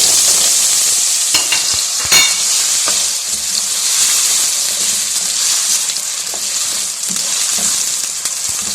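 Three potatoes frying in about four tablespoons of hot oil on full heat for a Pakistani aloo bhujia, a loud steady sizzle with occasional sharp stirring clacks and scrapes near the pan.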